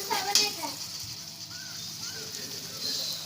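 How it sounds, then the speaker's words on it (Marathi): Black peas stirred and sautéed in hot oil with spices for a Malvani-style dish, giving a soft steady sizzle with light scraping of a spoon against the pan, close and continuous. "काळे वाटाणे व्यवस्थित तेलात परतून घेऊया."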